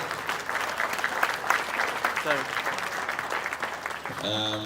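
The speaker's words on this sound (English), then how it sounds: "A big round of applause for him." Clapping from a conference audience, steady and fairly close, ending as a voice starts speaking.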